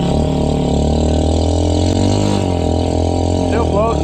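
A lifted Chinese ATV churns through waist-deep water, its engine a loud, close, continuous drone that rises and dips in pitch, with people talking over it.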